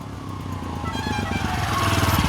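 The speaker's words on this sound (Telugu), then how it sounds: "అది సైలెన్సర్ సౌండ్." A motorcycle engine idles and revs close by, its exhaust putting out a steady, throbbing rumble that grows slightly louder.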